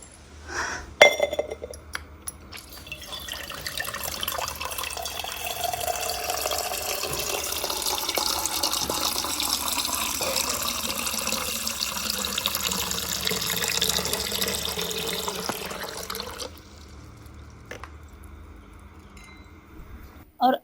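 Water running steadily from a tap into a glass or vessel for drinking at home, with a few clinks of glass at the start and end; a faint voice is heard.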